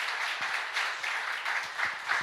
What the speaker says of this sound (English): Let's get one more round of applause for Nitin.